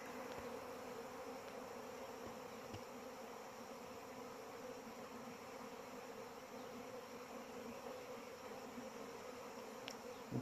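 Honeybees at work hum in a soft, continuous buzz, quiet and even throughout, with a couple of brief ticks standing out against the drone.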